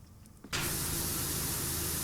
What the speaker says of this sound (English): then we can spray it with a crap ton of water